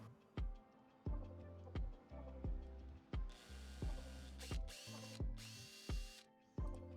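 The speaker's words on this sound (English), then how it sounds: "Take your drill." Power drill working at close range on holes for a car's front splitter on an 08-14 Subaru WRX, in short repeated bursts with sharp clicks between them, some bursts whining higher as the bit spins freely.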